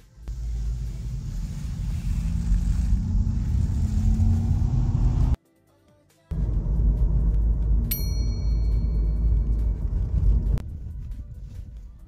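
A Volkswagen e-Golf electric car drives along with a steady low road rumble and tyre noise that cuts out briefly partway through, then resumes, heard from inside the cabin.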